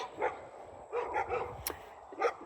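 A dog barks in a few short bursts on a Central Texas homestead, moderately close, outdoors amid faint background noise.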